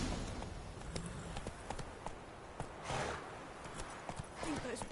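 Roach, Geralt's horse in the video game The Witcher 3, trots with steady hoof clip-clops beneath game dialogue and ambient noise, moderately loud and continuous.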